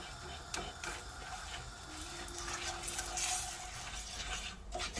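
Spices including a couple of pinches of asafoetida powder stirred together in a pan, a steady scraping and rubbing with a faint sizzle running throughout, close and moderately quiet.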